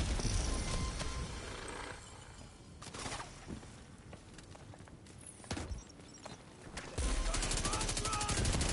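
Bursts of hip-fire gunfire from a weapon in The Division 2, rapid dense shots loud at the start and again near the end, with quieter scattered shots between.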